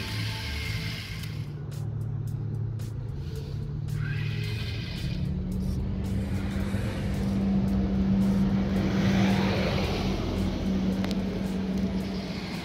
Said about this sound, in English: In obstacle mode, whenever there is an obstacle in front of the car moves left, right or just moves backwards,